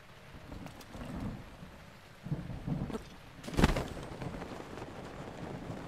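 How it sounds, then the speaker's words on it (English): Thunder rolls in the game Zelda Breath of the Wild over steady rain, several low rumbling swells building to a sharp crack near the middle, moderately quiet and without speech. "Nope, it's just thunder and lightning all the way."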